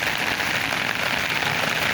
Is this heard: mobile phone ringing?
no